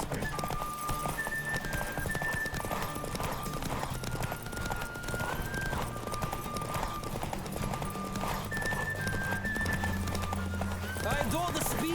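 Horse galloping in the video game The Witcher 3, with steady hoof clip-clop running through the whole stretch under a dense game soundtrack and voices.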